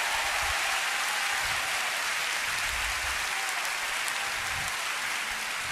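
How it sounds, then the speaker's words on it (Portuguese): A church congregation applauds loudly during a worship service, a continuous even wash of clapping with no break, heard fairly distant and without voices. "Você pode aplaudir mais forte o nosso Deus."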